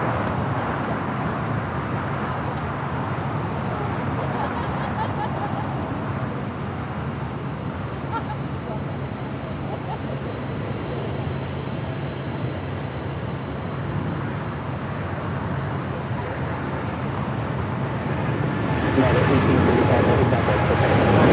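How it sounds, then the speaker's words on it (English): A United Airlines Dreamliner jet rolling for takeoff at LAX, heard as a broad, steady distant engine roar that swells louder toward the end, with no talking over it. "we now have the United Dreamliner rolling."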